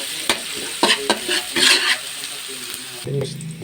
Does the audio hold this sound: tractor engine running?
no